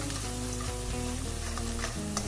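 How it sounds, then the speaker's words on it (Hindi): Ground garam masala and other spices fry in a pan with a continuous close sizzle. A steady tonal hum runs underneath the frying. "मसाले भुन गए अच्छी तरह से।"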